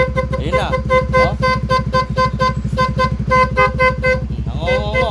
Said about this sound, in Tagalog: Pagka nag-loud horn na, ito na, loud horn.